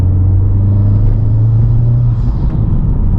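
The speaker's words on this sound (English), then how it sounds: "Man, this intake sounds good." A 2021 Honda Civic Type R intake drones loudly while cruising, a steady low hum over deep road rumble that holds evenly, then eases slightly toward the end.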